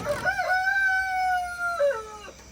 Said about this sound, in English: see if we can figure out who's crowing